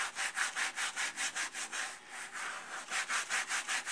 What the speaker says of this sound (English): Since I can't see, I'm scrubbing it maybe a little bit too much